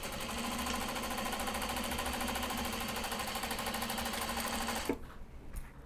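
Sewing machine stitching squirrel-print fabric for a small travel pouch, a fast even mechanical chatter running steadily for about five seconds before stopping abruptly, followed by faint rustling.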